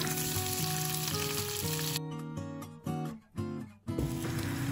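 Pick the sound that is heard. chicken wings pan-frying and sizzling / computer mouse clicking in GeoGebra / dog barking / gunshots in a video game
chicken wings pan-frying and sizzling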